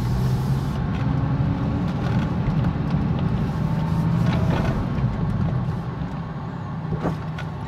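A car fitted with a DSC Sport shock controller brakes and then accelerates slowly in a parking lot, giving a steady, close engine drone with a faint hiss that eases slightly near the end.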